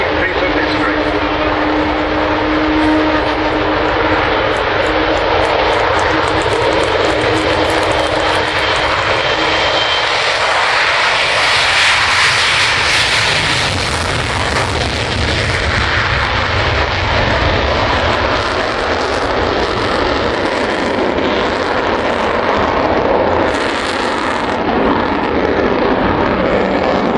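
An Avro Vulcan XH558 jet bomber roars past at RAF Waddington, its engines building to a loud, sustained thunder with a rising whine at the peak before trailing off, while a voice talks over it.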